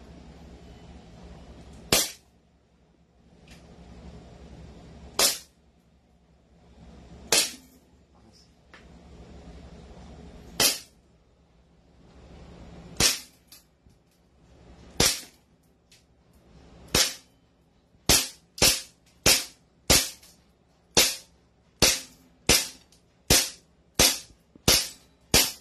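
JWC Pitt Viper airsoft gun firing single sharp shots, a few spaced seconds apart at first and then in a quicker, steady series of loud cracks over faint background noise.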